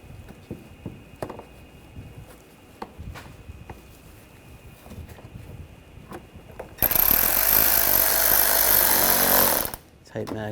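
A power tool drives down a screw on a panel of a 2013-2022 Buick Encore 1.4L during intercooler work, a loud three-second whir following scattered light clicks and handling noises.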